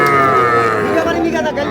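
Young bull calves at a livestock market moo loudly and close by in one drawn-out call, with faint crowd chatter beneath.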